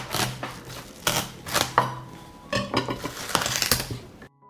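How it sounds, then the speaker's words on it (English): A knife cuts fresh watermelon into slices, with repeated loud, close thuds and scrapes against a board or plate, spaced irregularly over a few seconds. "I will cut the watermelon into slices."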